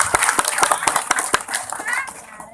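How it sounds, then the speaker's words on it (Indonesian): Audience at a religious dhikr gathering clapping in a quick burst of claps that fades over a couple of seconds, close and fairly loud. "tepuk tangan"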